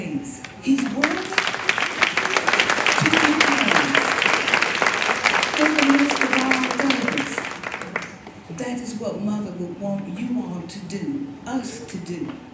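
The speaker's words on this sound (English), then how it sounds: "Give God a hand clap of praise." A funeral service congregation claps hands in praise, loud dense clapping that swells and then thins, with voices calling out over it throughout.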